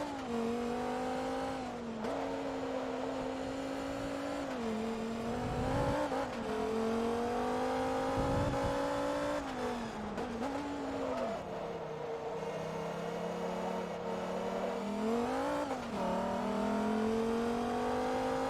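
American sports car engine in Forza Motorsport 2 howls continuously through gear changes, pitch climbing and dropping with throttle blips on downshifts and brief tire noise, loud and close with no talking.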